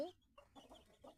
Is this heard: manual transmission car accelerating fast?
no